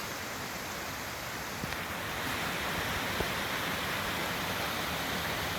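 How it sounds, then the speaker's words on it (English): Steady, broadband roar of rushing water from a large waterfall along the Pacific Crest Trail, constant and fairly loud with no voices, heard up close. "Check out this waterfall."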